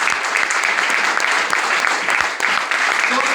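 Dense, steady applause from an audience at a business-plan presentation fills the clip with close, continuous clapping and only brief dips.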